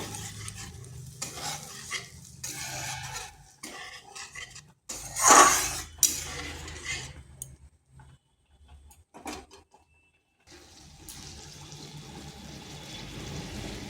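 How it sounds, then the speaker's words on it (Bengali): Spice paste for a vegetarian potato and pointed gourd kalia, with a little milk added, is stirred in a pan: soft sizzling and intermittent utensil scrapes, one loud clatter, then a brief near-silent pause before a quiet hiss resumes. "এটা দেওয়ার পর আর একটু কষে নেব"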